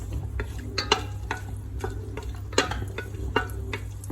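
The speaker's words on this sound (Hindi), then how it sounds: "इसके अंदर आप अपनी इलायची फ्राई कर लें" Cardamom frying in several spoonfuls of ghee for dry sweet vermicelli, a soft sizzle under a low hum with sharp intermittent clicks and scrapes of stirring, close by.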